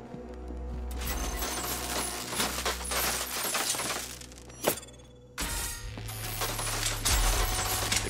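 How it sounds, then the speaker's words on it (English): Heavy counterweight mechanism in Batman Arkham Knight grinding and clanking through ratcheting gears and pulleys, a dense continuous mechanical rumble with one sharp clank midway and a brief pause before it resumes. "Counterweights move further when I step on the pads."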